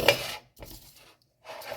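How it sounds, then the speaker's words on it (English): Metal tool rasping dried sodium carbonate off a pan after stovetop heating, two or three short scraping strokes separated by brief pauses, close and fairly quiet. "So once it stops splattering, I'm going to scrape it off."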